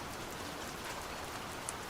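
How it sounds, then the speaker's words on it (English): Steady rain falls in a soft, even patter, fairly faint, with one small brighter drip near the end and no voices. "listening to the rain"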